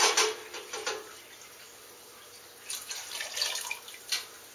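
Sparge water splashes and trickles in uneven bursts as it is poured into a beer brew pot with steeping water, with short pauses between pours.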